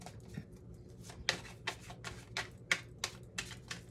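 Tarot cards being shuffled by hand, a run of soft, close riffling snaps and taps in an irregular rhythm, quiet and with no talking.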